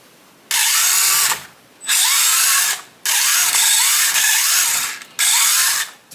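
A Traxxas SCX24 RC crawler with a two-speed transmission running at full throttle in second speed, its motor and gears giving a loud, high-pitched mechanical whine in four bursts with short pauses between them.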